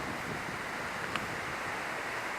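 A small creek spilling over a little waterfall near Lake Erie gives a steady, close, broadband rush of water with no other sounds.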